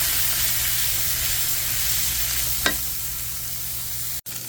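Bacon sizzling in a pan gives a steady, close hiss that carries on evenly throughout, with one brief sharp tick midway and a short dropout near the end.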